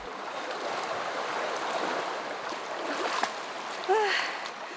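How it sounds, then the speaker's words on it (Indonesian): River water rushes steadily during a crossing of a shallow, murky river contaminated by illegal gold mining, a broad continuous wash with a few brief splashes and a faint whistle-like sound near the end. "Sungainya sih tidak dalam, tapi sayangnya air sungai sudah tidak jernih."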